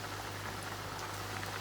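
Ladoos fry in hot oil in a Gujarati home kitchen, giving a faint, continuous bubbling sizzle with scattered tiny pops over a low steady hum.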